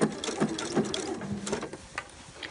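A sewing machine stitches a sleeve seam on a shirt made of Liberty fabric, sounding as a close, uneven mechanical whirr and rattle in short bursts with no talk.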